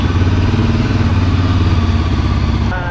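A motorcycle engine drones steadily and loudly as the bike rides along a road, a continuous close rumble with a slight change in pitch near the end.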